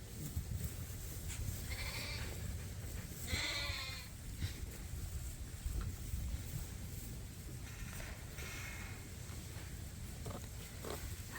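Sheep and lambs bleat in an open farm field, several distinct calls rising over a steady outdoor rumble, some close and some farther off, with quiet gaps between them.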